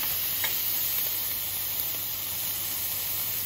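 Prime rib steak searing in a hot pan gives a continuous close sizzle and hiss, with a few brief crackles over a low steady hum.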